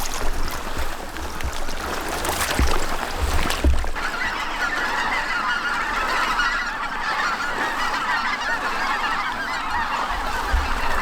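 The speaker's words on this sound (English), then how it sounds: "Pintail's coming through. It's a sprig in the back, Logan." Pintail ducks calling as they fly over the Mississippi Delta during a duck hunt, a steady chorus of many waterfowl voices with a few sharper nearby calls standing out over the noisy flock.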